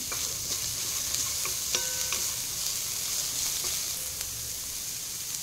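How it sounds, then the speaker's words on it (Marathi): Finely chopped carrots, French beans and cabbage stir-fry over a high flame, giving a constant bright sizzle with scattered clicks and scrapes of a spatula against the pan, close and uninterrupted by voices. "या सर्व भाज्या हाय फ्लेमवर आपल्याला फ्राय करायच्या आहे"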